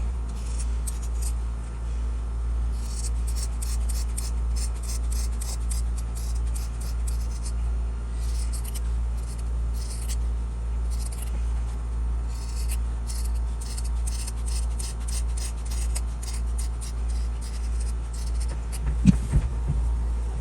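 Scissors trim around the sewn edges of a fabric wallet with rapid, steady runs of crisp snips over a low background hum. A brief soft knock comes near the end.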